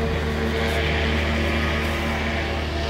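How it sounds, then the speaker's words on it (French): A steady, constant engine drone with a low rumbling hum holds at one level throughout, close by and fairly loud. "Tu entends comme il a gonflé le moteur?"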